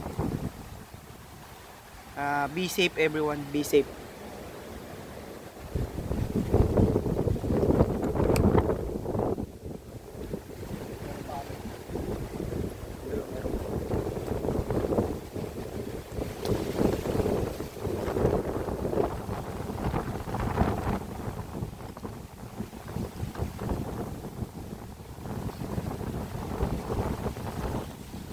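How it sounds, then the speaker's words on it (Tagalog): Strong typhoon wind buffets the microphone in long, loud gusts that rise and fall over roughly half a minute, with a brief bout of speech near the start. "Apakalakas ng hangin guys."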